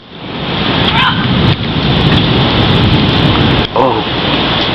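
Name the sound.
thunderstorm with thunder and rain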